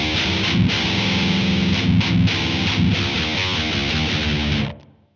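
A heavily distorted electric guitar plays through a guitar amp unit, loud and sustained with thick chords, then rings out and fades quickly at the end.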